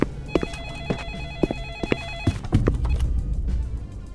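A telephone rings in a repeating electronic trill, several short bursts in a row, fairly close and clear, followed by a brief rustle of movement.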